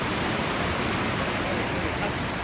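A rushing river crossed at kilometer 88 on the Inca Trail in Peru, a loud, dense, continuous roar of flowing water filling the whole soundscape.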